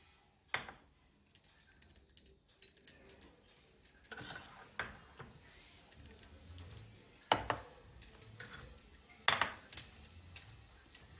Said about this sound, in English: Mix everything well to form a smooth dough.